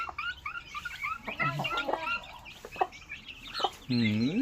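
Chickens and a turkey cluck and squawk close by in a busy jumble, with one louder drawn-out call near the end.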